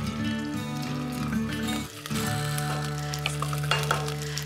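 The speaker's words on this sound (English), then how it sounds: "we'll just allow those onions to sweat off slightly" Chopped onions sweat in a pot for spiced mushroom soup, giving a steady, close sizzle with a brief dip partway through, then a continuous frying hiss with faint stirring clinks.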